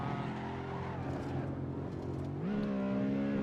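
A BMW E92 M3 engine pulls hard under throttle on a Nürburgring lap, a loud close droning roar whose pitch dips and then climbs sharply as revs rise, with only faint traces of a voice.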